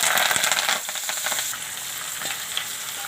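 Radish greens sizzle in a hot pan while being stirred, a bright crackling fry with a few scraping stirs up close, settling into a steady hiss.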